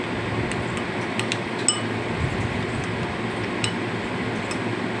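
A spoon clinks against the side of a glass or bowl while custard powder is stirred into thick milk, with small, light taps scattered over a steady background hum.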